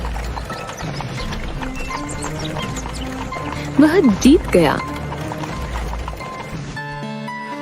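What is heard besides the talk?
horse galloping fast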